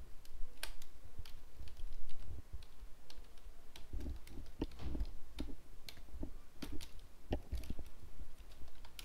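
Typing on a computer keyboard, irregular clusters of close, crisp key clicks with short pauses between bursts, alone with no talking.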